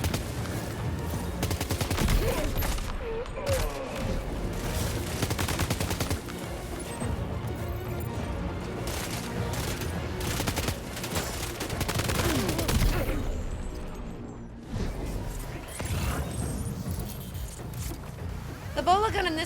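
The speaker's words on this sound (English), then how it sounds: "they get back up after a couple of seconds and they keep shooting at you" Enemy gunfire in the video game Death Stranding 2, dense bursts of shots mixed with game sound and music, running almost continuously with a person talking over it.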